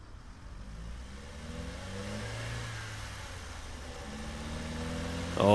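Video game car approaching a recycling center, a faint engine hum that swells gradually as it draws nearer, with shifting revs before a brief louder burst at the end.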